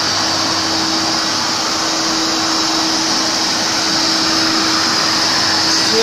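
A Powerwash SC2A electric pressure washer runs steadily and loudly close by, a continuous whining motor hum with broadband spray hiss and no pauses or talk.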